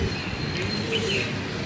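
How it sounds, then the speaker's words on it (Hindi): Golden pigeon cooing close by, a soft low murmuring call with a few faint higher chirps over steady background noise. "ये कबूतर है, ये माशाल्लाह ये बड़ा अच्छा कबूतर है।"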